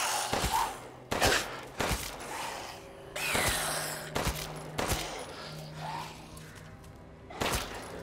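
Sharp, separate gunshots crack out in Resident Evil Village, about seven or eight spaced irregularly across the stretch, loud and close over a quiet, faintly mechanical background.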